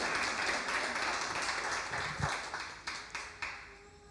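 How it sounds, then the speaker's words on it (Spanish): A church congregation applauds during a Spanish-language sermon, a dense steady wash of clapping that thins toward the end into a few separate, sharper claps. "Aplaude el nombre del Señor."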